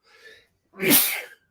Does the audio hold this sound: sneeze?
yes